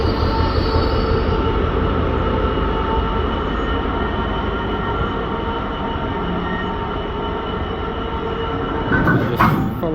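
Freight locomotive 66040 roaring past at very close range beneath a bridge, a loud sustained engine drone with rumbling wagons and squealing wheels throughout, swelling again near the end.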